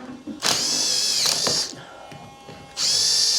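A drill drives tek screws into a steel beam during garden room construction, with two loud whining bursts split by a quieter lull, close up.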